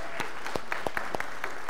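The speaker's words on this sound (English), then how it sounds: "let's applaud these moms one more time" A church audience applauds a group of mothers: a fairly faint patter of scattered claps with sharp individual hits, sparse rather than a dense roar, lasting under two seconds.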